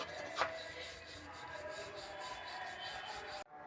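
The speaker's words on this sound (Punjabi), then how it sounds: "ਇਸ ਤਰ੍ਹਾਂ ਇਹਨੂੰ ਆਪਾਂ ਹਲਕੇ ਹੱਥਾਂ ਨਾਲ ਵੇਲ ਲਵਾਂਗੇ ਜੀ" Stuffed cauliflower paratha dough being rolled out with a rolling pin on a floured surface gives a steady, soft rubbing and swishing sound at close range, continuous for a few seconds with one brief louder scrape, then cuts off abruptly.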